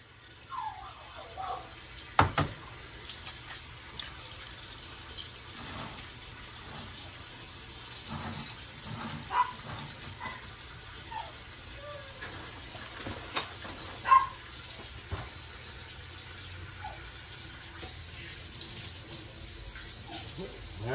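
A kitchen tap runs at moderate distance as water goes into a pot or bowl while making dinner, a low steady rush broken by brief clinks and handling knocks, with faint voices in the background.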